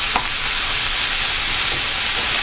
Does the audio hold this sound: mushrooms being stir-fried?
yes